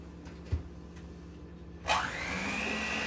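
An electric mixer starts up about two-thirds through and runs steadily, whirring loud and close as it beats heavy whipping cream into mashed potatoes, after a few faint knocks and clicks.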